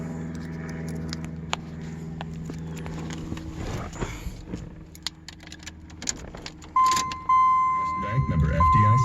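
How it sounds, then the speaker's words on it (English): A 1996 Chevy Caprice 9C1 with a rebuilt engine is started after keys jingle; the engine catches and settles into a quiet idle, heard close up, with a voice talking over the start. "So here, I'll fire it up for you. So you can hear how quiet it is."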